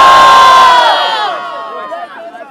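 Crowd at a Rio de Janeiro freestyle rap battle final cheers and shouts loudly all at once, then the noise thins into scattered whoops and calls that fade out over a couple of seconds.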